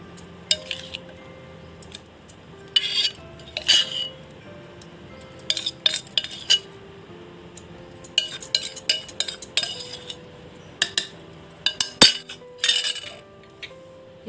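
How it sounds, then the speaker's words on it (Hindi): Repeated clinks and scrapes of a spoon against a mixer jar, with soft wet plops of mango pulp, in irregular bursts close by. "अभी सारे पल्प को मैं मिक्सर जार में डाल दूंगी।"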